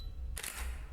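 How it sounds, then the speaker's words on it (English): A single quick camera shutter click in a horror video game as a photo is taken, a short sharp snap over a quiet low ambient hum. "use the camera to take a photo"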